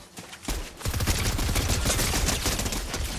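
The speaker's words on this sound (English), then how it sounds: "Drum gun." Rapid drum gun fire in Fortnite, a dense and loud burst of automatic shots that keeps going for most of the moment after a short quieter start.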